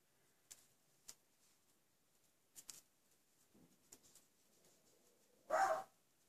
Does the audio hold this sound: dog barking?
yes